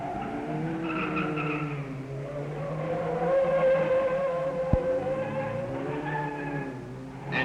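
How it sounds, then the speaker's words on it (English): Sunbeam Rapier and Mercedes rally race cars from 1962 driving at speed on a circuit, engines droning with rising and falling pitch, tires squealing, and one sharp click partway through. "Graham Hill now catches Noel's Mercedes."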